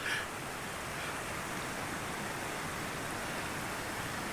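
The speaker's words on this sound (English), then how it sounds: "it's still wonderful just hearing the creek" A creek rushes steadily nearby on Iron Mountain in Idaho's Soldier Mountains, a constant even hiss of flowing water with no voices.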